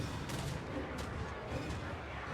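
Quiet, distant volleys of massed gunner fire in a Total War: Warhammer 3 battle, a few muffled rifle cracks popping over a low rumbling battlefield din.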